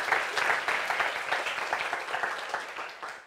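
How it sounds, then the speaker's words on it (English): An audience at a conservation conference session gives a round of applause, brisk, dense clapping that starts strong and gradually thins out over a few seconds, with no talk over it. "So a round of applause."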